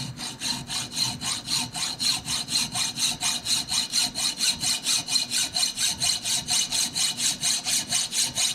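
A round file cuts a finger choil into a handmade knife blade, giving a steady, even rhythm of about two rasping strokes per second, close and alone throughout.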